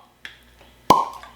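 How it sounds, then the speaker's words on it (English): A Clyde May's bourbon bottle is uncorked with a single sharp, close pop, preceded by a faint squeak of the cork twisting, in an otherwise quiet room. "So, pause for cork pop."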